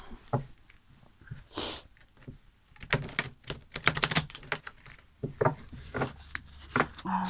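Tarot cards riffle and flick in quick, uneven bursts with soft papery clicks, close and fairly quiet, no talking.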